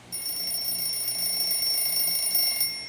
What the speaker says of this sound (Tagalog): May nag-alarm.